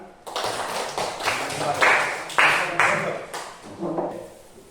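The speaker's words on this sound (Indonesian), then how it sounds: "kita berikan tepuk tangan" A small class in an arts lesson claps, giving a few bursts of scattered hand claps that swell and ebb over a few seconds.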